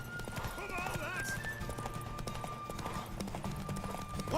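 Horse hooves clip-clop at a steady rhythm in The Witcher 3: Wild Hunt on PS5, close and fairly loud, under game music, a whinny and overlapping character dialogue.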